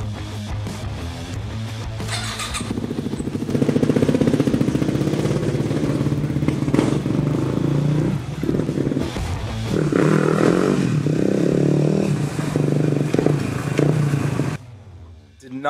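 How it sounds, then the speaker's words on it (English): A motorcycle fitted with new aftermarket brake and clutch levers starts up and rides off outdoors, its engine rising from a rough idle into louder, revving roars with clattering mechanical noise, then fading and dropping away near the end. "So let's pull the bike off the stand, take her outside, and try these levers out."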